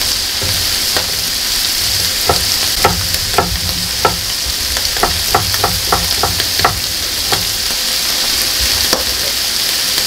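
Chopped yellow onion fries in a pan with a continuous loud sizzle, punctuated by frequent light scrapes and taps of a utensil stirring it, no voices.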